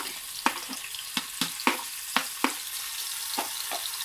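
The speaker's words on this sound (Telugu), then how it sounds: "సో ఆయిల్ హీట్ అయిన తర్వాత ఆనియన్స్, పచ్చిమిరపకాయలు, ఉల్లిపాయలు వేసుకుందాం" Sliced onions and green chillies fry in hot oil. A low sizzle runs underneath a series of sharp, separate crackles and pops that arrive about every half second.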